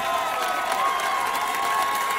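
Alcoa Tornadoes home crowd at a 2006 high school football game against McCallie, a steady wash of distant cheering and shouting filling the stands, without pause.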